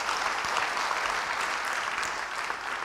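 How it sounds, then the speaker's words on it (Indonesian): Congregation applause in a church service, a dense, even wash of many hands clapping that holds steady throughout without speech. "Beri tepuk tangan bagi dia."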